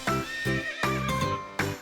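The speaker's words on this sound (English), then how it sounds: "this is a horse, and sound of a horse" A horse neighs loudly and close, a series of several shrill, quavering whinny bursts in quick succession with no pauses for speech.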